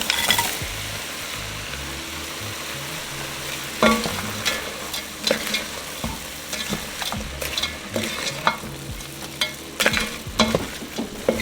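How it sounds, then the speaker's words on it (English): Vegetables tumble into a soup pot and are stirred as they fry, giving a steady close sizzle broken by sharp scraping and clattering spoon strokes that grow busier toward the end. "Now I'm going to get ready to add my vegetables in."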